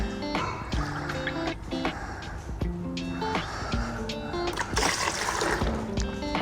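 Descaling solution poured from a cup into the water container of a dual boiler coffee machine, a close, continuous liquid splash and trickle with light clinks and handling noises mixed in.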